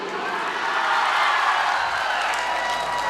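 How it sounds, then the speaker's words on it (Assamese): A crowd at a live comedy show in Bukakhat applauds comedian Mohon, and the dense clapping mixed with a few cheers holds steady throughout at a moderate distance. "আমাৰ মোহনৰ কাৰণে এটা হাত চাপৰি"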